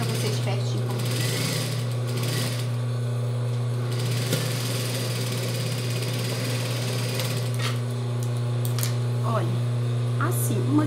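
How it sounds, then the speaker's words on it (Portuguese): A sewing machine stitches the hem of a child's jumpsuit with a steady close mechanical whir and hum that runs the whole time, with brief rustles of fabric handling and a voice speaking now and then. "Aqui eu vou passar uma costurinha aqui ainda também. Só aqui no finalzinho aqui"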